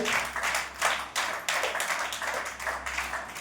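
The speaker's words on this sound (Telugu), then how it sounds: "చప్పట్లు కొట్టండి గట్టిగా, కొట్టండి గట్టిగా." A crowd at a church sermon claps in a steady, rhythmic beat, fairly close and lively, with no talking over it.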